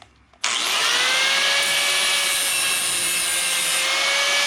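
A power grinder bites into a stainless steel mower discharge cover to round its edge, starting abruptly after a brief quiet moment and then holding a loud, continuous, high-pitched whine close up.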